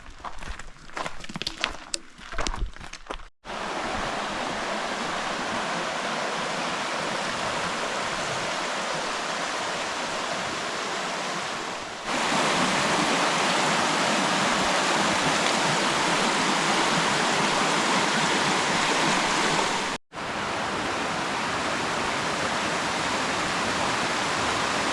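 A brook gurgles and rushes steadily beside a forest hiking trail in the Cape Breton Highlands, a continuous close water noise that swells louder midway, with brief rustling and footsteps at the start.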